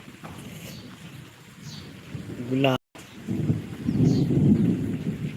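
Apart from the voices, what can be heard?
thunder claps during rainstorm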